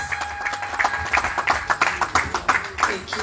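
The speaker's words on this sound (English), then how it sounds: "Put your hands together for her," An audience at a humanitarian reunion summit and award ceremony claps in a quick, uneven burst of hand claps, close and moderately loud, with no talk over it.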